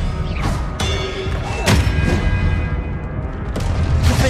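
An Expelliarmus spell cast in Hogwarts Legacy, loud booming thuds and whooshing magical impacts layered over dense game effects, several sharp hits in quick succession.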